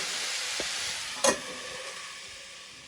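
Broad beans frying gently in a covered pan over low heat, giving a soft, steady sizzle with a brief clatter of the lid or a stir partway through.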